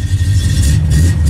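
A 1979 AMC AMX engine with dual exhaust runs steadily at idle, a loud, close, low rumble with a throbbing exhaust pulse and no voices.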